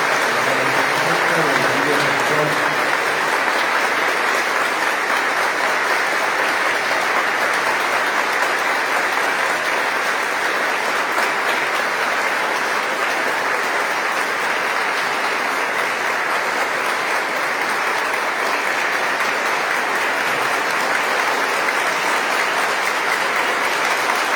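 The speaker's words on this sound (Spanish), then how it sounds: "vamos a aplaudirle a Jesús que resucita hoy" A church congregation at an Easter Vigil Mass claps in sustained, dense applause for over twenty seconds, loud and even throughout, with a faint voice briefly audible at the start.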